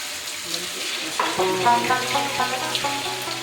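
Beef karahi gosht sizzles and crackles in the pan as a spoon stirs it, with a few light clinks over a continuous frying hiss.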